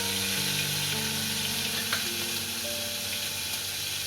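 Ginger, chili and garlic paste hits hot oil in a pan already holding asafoetida and cumin, giving a loud, steady, close sizzle that holds without a break.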